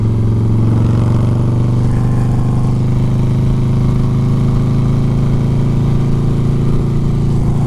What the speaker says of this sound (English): I'm gonna shift down here to second gear and I'm gonna give it a little full throttle test